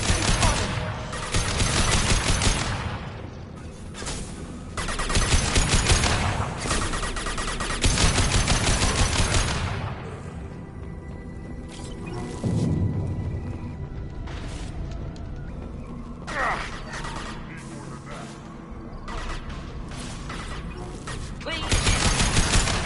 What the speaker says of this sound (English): how are you hitting me with a fucking shotgun from that far away?